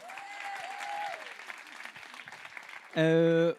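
Audience applause and cheering fill a room at an open mic comedy night, steady and fairly close, with a voice talking over the start and a short, loud sustained tone cutting in near the end.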